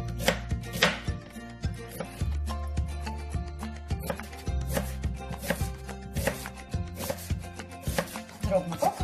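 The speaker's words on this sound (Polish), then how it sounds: "Kroimy właśnie tak drobno." A knife chops half an onion finely on a cutting board while ground-meat cutlets are being prepared, giving rapid, uneven close-up taps with short pauses between bursts.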